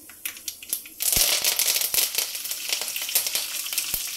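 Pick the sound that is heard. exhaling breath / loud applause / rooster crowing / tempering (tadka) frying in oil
tempering (tadka) frying in oil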